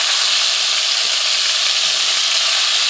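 Lamb meatballs sizzling steadily in a pan, a loud, close, continuous hiss of frying that holds level throughout with no voices.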